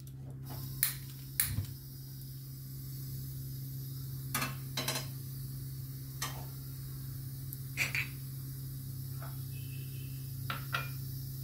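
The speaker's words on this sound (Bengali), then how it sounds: "গ্যাসটা জ্বালাচ্ছি" A gas stove igniter clicks several times in short, sharp bursts, some single and some in quick pairs, spread over a steady low hum in a quiet home kitchen.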